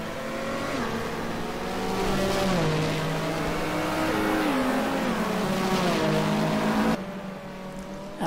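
GT3 race cars stream past at Donington in a racing video game, a layered roar of several engines shifting up through gears together, loud and sustained before cutting off abruptly.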